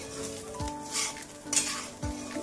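Coconut and rice being stir-fried together in a pan for sweet coconut rice, a soft steady sizzle with a few sharp scraping stirs of the spoon against the pan, close and alone.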